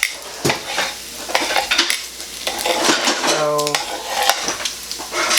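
Bacon fries and sizzles in an oil-trap pan for a country breakfast, a steady crackle under clinks and scraping of utensils, with a brief tonal hum midway and a short spoken word.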